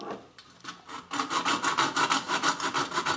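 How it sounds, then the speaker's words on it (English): Metal is filed by hand while a tin toy is being repaired, opening with a few light scrapes and then settling into a steady run of about a dozen rhythmic back-and-forth rasping strokes, close and fairly loud. "I'm going to give it a little file and see whether I like it or not"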